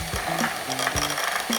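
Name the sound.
whizzing cream cheese in a small bowl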